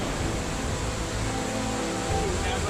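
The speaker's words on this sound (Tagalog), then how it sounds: "Rumaragas ang tubig na may halong putik at bato ang sumalubong sa mga motorista" Rushing floodwater mixed with mud and rocks surging across a road after heavy rain in Sultan Kudarat, a loud continuous roar and churn close by with no pauses.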